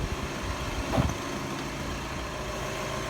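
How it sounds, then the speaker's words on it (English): A car engine idling steadily after an oil and filter change, a low continuous rumble with a brief louder bump near the start, no talk. "start the car, check for the leaks"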